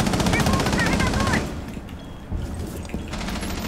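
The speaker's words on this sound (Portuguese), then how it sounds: "Fez barulho de tiro." A rapid burst of loud automatic gunfire in Rainbow Six Siege for about a second and a half, then quieter background noise with a few distant thumps.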